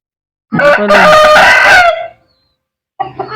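A red junglefowl rooster crows once up close, loud and ringing for over a second before trailing off, followed after a short silence by the start of another call.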